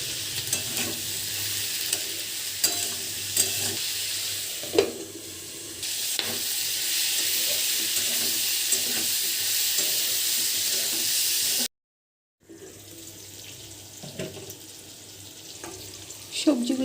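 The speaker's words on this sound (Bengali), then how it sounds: "গ্যাসের ফ্লেমটা বাড়িয়ে ভাজা ভাজা হবে।" Pointed gourd pieces with salt, turmeric, chili and cumin powders fry dry without water over high gas flame in a pan, a steady loud sizzle with repeated spatula stirring and scraping, briefly cut off near the end before resuming.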